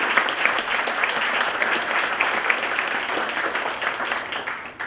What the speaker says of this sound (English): a big round of applause for our 26 student athletes